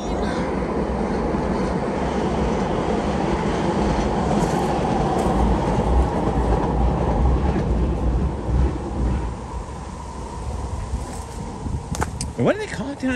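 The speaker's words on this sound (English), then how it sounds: "The train!" A train passes near a truck dock area, its heavy rumble and rolling clatter sustained and loud for several seconds before easing off, with a person talking over it.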